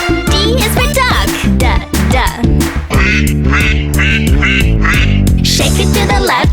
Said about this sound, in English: D is for duck. Quack, quack.